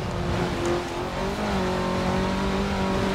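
A stock 1985 Ford RS200 Evolution, mid-engined, accelerating in Forza Horizon 4, its engine note climbing steadily and loud and close, with no talk over it.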